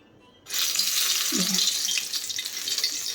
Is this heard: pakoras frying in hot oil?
yes